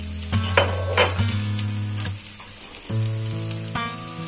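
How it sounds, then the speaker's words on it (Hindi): Onions frying in a pan on a medium flame while making a malai pyaz sabji, a steady close sizzle with a few stirring scrapes and a persistent low hum underneath. "प्याज को डाल के मीडियम फ्लेम पे 2 मिनट तक भूनें"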